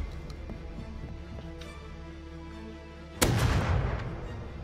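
A single loud gunshot in the video game Rust cracks out sharply after a quiet stretch of low ambient tones, then its echo fades away slowly.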